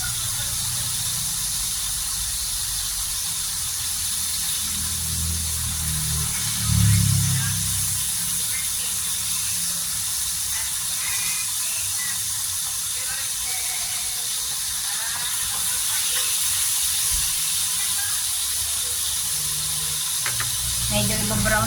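Food browns in hot cooking oil in a pan while making pesto pasta, giving a continuous close hiss and sizzle that runs steadily throughout, with occasional low thumps from handling the pan.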